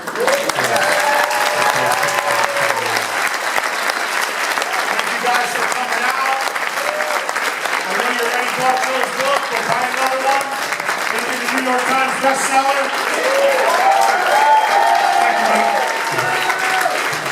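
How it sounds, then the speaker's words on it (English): A crowd claps steadily and continuously at a Barnes & Noble book release Q&A in New York, the applause filling the room while a voice speaks over it. "One more round of applause, please"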